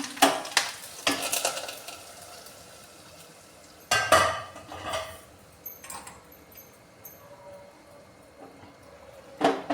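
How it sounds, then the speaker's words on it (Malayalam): Tempered mustard seeds poured into a pot of sambar, giving a few sharp sizzling bursts and clinks of a metal vessel, with quieter stirring between them and no talk. "താളിച്ച കടുക് നമ്മുടെ സാമ്പാറിലോട്ട് ഒഴിച്ചു കൊടുക്കുകയാണ്."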